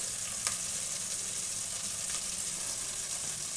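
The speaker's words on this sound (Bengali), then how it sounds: "যে মাছটা কষা করব সেটা আমি এরকম করে ভেজে নিচ্ছি" Boal catfish pieces fry hard in hot oil, a dense, even crackling hiss that holds steady throughout, close by, with one faint clink early on and no talking.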